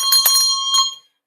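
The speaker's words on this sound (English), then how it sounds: "There's the bell." A single bright bell rings out loud and close, a couple of quick metallic strikes with a sustained ringing tone that fades and cuts off after about a second.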